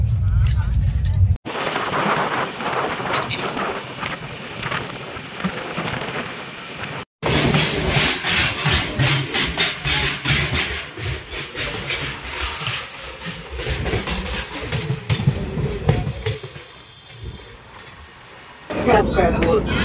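A passenger train running from Kolkata towards Asansol rumbles and rattles continuously, loud and close from inside the carriage, with short breaks and some voices mixed in.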